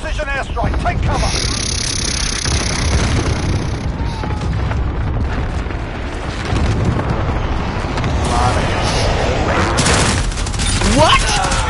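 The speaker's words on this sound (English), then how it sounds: "Enemy precision airstrike, take cover." An enemy precision airstrike in the shooter Call of Duty Modern Warfare brings loud, rolling explosions and bursts of gunfire that churn on steadily, with voices cutting in over the din.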